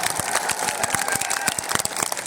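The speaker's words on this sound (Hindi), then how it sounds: "और जोर से ताली बजाइए।" Audience at a Rajasthan election rally in Nohar applauding, a dense wash of steady clapping with sharp individual claps standing out, fairly close and continuous with no voices over it.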